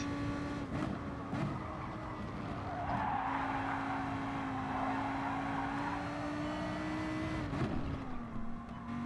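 A Gr.3 race car lapping Autodromo de Interlagos in Gran Turismo Sport, a loud sustained engine drone with gear shifts and tyre squeal as it skids through corners, close and without any talk.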